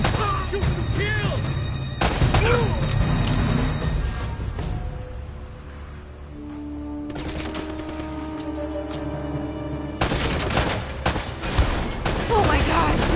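Gunfire in the video game Uncharted: Drake's Fortune, with loud, rapid bursts and scattered shots, a short lull, then more firing, mixed with game voices and effects.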